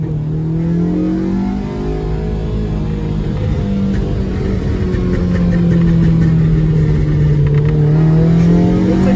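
A Honda Civic DX with a swapped K20Z3 engine and stock muffler revs loud and close, its steady engine drone rising and falling with a few small exhaust pops.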